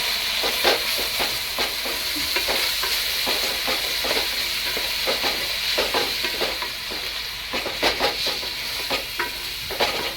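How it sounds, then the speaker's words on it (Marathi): Onion frying golden in a pan for chicken sukka, a continuous bright sizzle and hiss with repeated scraping stirs in an irregular rhythm, close and fairly loud, with no talking. "आपला आता कांदा असा मस्त गोल्डन फ्राय होतोय"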